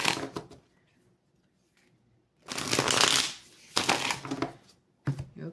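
Tarot cards being shuffled by hand in bursts: a crisp riffling flutter, a pause, then a long close shuffle and two shorter ones, with no talk.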